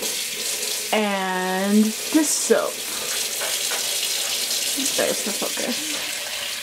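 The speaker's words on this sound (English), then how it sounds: "it's now time to wash the fiber with some lukewarm water" Lukewarm tap water runs steadily into a wash bath to rinse space-dyed yarn colored with Easter egg dye pellets, a broad continuous rush with a short rising tone near the start and brief speech over it.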